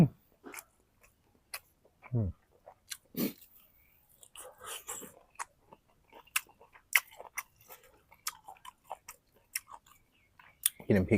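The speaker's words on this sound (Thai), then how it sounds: "กินน้ำพริกมันต้องกับผักต้มผักลวก" Chewing while eating Thai chili paste with boiled and blanched vegetables, close wet mouth sounds and bites in irregular bursts with brief pauses, faint and intimate with no talking.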